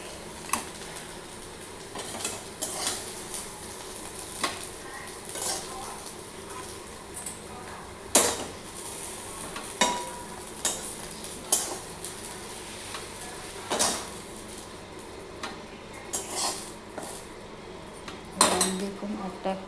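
Fried vadas are lifted one by one from a kadai with a metal utensil, bringing repeated sharp clinks and scrapes of metal on the pan at irregular intervals over a low background hiss.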